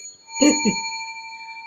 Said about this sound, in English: listen for my bell